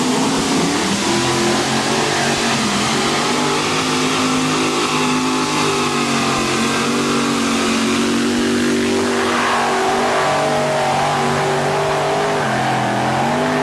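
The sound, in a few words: modified tractor pull with five supercharged 454 Chevy engines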